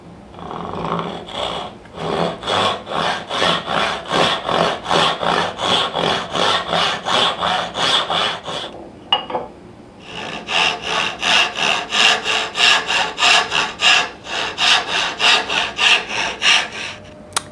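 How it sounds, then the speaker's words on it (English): A wooden tenon is cut by hand with a dovetail or carcass saw, close and loud, in steady back-and-forth rasping strokes, about two per second, with a short pause midway before the rhythmic sawing resumes. "I'll just probably use a combination of my dovetail saw and maybe chisels, or even a carcass saw to waste out that piece"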